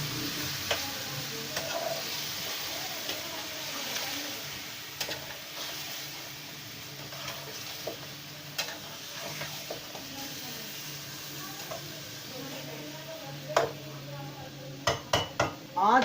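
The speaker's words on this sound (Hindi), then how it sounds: "चिकन को डाल के अच्छे तरीके से भून लेंगे।" Chicken pieces frying in a pot for Bombay chicken biryani, with a steady broadband sizzle, scraping stir strokes and a few sharp clanks of a utensil against the pot near the end.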